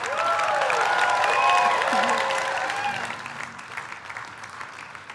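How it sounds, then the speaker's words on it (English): Sustained applause from an audience at an architecture award ceremony for a Gold Medal recipient, loud and steady for several seconds before tapering off, with some cheering mixed in. "give me a round of applause, ladies and gentlemen"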